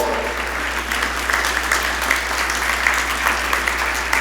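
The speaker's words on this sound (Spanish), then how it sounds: "Dale un aplauso a Ahod." Church congregation applauding after a sermon story, a steady wash of clapping from many hands throughout, moderately loud and continuous with no talk over it.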